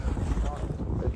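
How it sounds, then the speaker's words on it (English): Strong wind gusts outdoors beside small water on a spring fishing trip, a loud, steady low roar buffeting the microphone with faint voices underneath. "Yeah, look at Jeremy, it's windy as fuck out."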